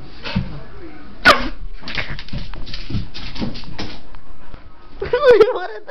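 A dog gives several short barks and whimpers close by, mixed in with people talking over it.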